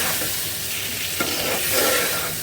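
Eggplant and potato sautéed in a pan, a dense continuous sizzle with a soft stirring scrape partway through, close and steady.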